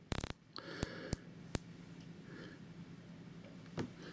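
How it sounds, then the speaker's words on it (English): The ceramic bezel of a Rolex Submariner dive watch gives a few sharp, quiet ratcheting clicks as it is rotated, separated by near silence. "Very smooth action on the bezel."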